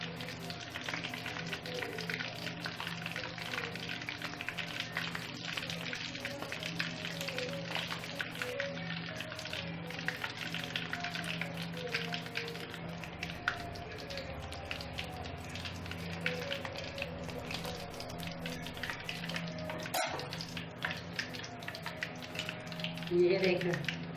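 Crispy coated fish pieces fry in a karahi with a dense, steady sizzle and crackle, under a voice speaking.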